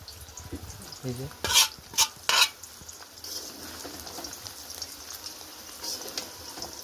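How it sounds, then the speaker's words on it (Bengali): Seven kinds of leafy greens cooking in a pan in a village kitchen, a low constant sizzle with a few loud utensil scrapes early on, then softer stirring. "এই যে শাক রান্না হচ্ছে।"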